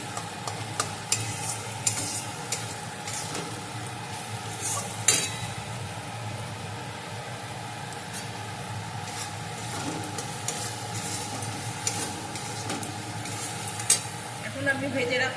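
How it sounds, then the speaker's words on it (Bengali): Vegetables stirred in a hot pan for a Bengali cauliflower and potato curry (aloo phulkopir dalna), a steady close sizzle with scraping and clinking of a spoon against the pan throughout. "একটু সময় আমি নাড়াচাড়া করে নেব।"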